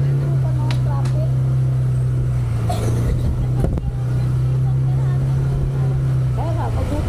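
Riding a motorcycle through road traffic, a steady low engine drone hums continuously with passing vehicle noise and brief bursts around it, and someone talks over the ride.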